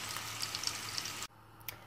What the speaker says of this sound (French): Et là je vais faire revenir donc mes oignons avec mes poivrons, juste pour les caraméliser